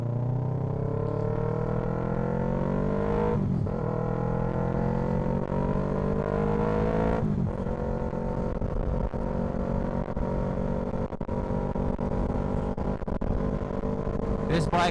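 A 2020 Yamaha R3 sport motorcycle ridden on the road, its engine droning steadily with rising and falling revs and two brief gear-shift dips, heard from the rider's position over constant wind noise.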